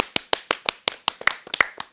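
Audience clapping for a guest, Kevin Gates, being introduced on stage: a steady run of sharp, distinct claps at an even rhythm, close and fairly loud, with no voices over it.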